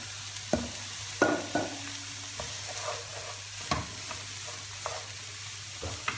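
Ground meat sizzling in a pan with browned onions, with a steady low fry under scraping stir strokes and a few sharper clanks of the utensil against the pan.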